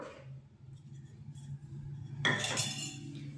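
A spoon stirring orange-flavoured sugar syrup for ice gola and sherbet, giving soft clinks and scrapes against the vessel, with a brighter burst of metallic scraping near the end over a low background hum.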